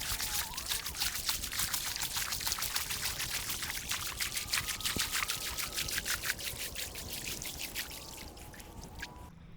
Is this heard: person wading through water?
yes